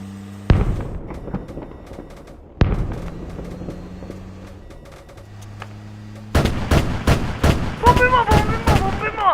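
Heavy booming gunshots in a Roblox video game ring out, a few spaced blasts with long echoing tails, then a rapid burst of shots and explosions with voices shouting underneath.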